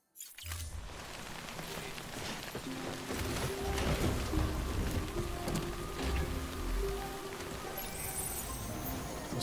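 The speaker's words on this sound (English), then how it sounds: "the rain, so that's one thing we've got to be careful about" Steady rain in the video game Death Stranding, a dense continuous hiss of falling drops with low rumbling underneath, holding at an even loudness throughout with no talk.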